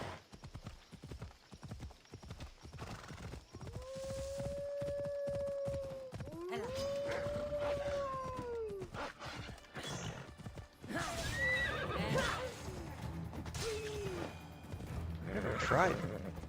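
Hooves clip-clop at a steady gallop while a horse whinnies loudly twice in a video game, the neighs rising and falling over the hoofbeats, with more hoof clatter and another neigh following; someone talks in stretches under it.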